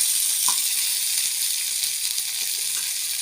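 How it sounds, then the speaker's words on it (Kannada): Okra frying in oil in a pan makes a steady, close sizzle and hiss that runs the whole time with no talk. "ಚೆನ್ನಾಗಿ ಫ್ರೈ ಆಗಂಗ ಹುರಿಬೇಕು"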